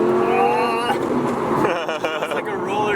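Audi R8 sports car cruising at speed on a freeway, its steady engine drone and road roar running continuously beneath excited talk from people inside the cabin.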